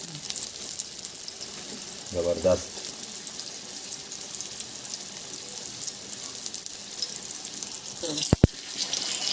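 A single flour-coated surmai fish fillet fries in a large tawa, a steady close sizzle running throughout with a few metallic knocks, while a voice speaks briefly over it.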